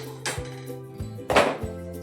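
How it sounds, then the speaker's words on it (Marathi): A kadhai (wok) is set down on a lit gas stove, giving a few close metallic clanks and thunks over two seconds, the loudest near the end, against a steady low hum. "आता कढई ठेवून द्यायची."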